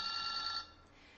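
A telephone rings once with a bright, steady electronic trill, then cuts off abruptly partway through and leaves near silence; the ringing goes unanswered.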